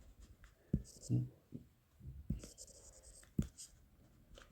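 Pen writing numbers during a fraction calculation, soft scratchy strokes in short bursts under a person's continuous explanatory speech.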